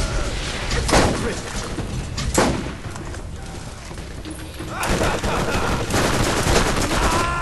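Automatic gunfire sprayed in the Borderlands video game, loud bursts of rapid shots with sharp peaks near the start and a dense sustained volley in the second half.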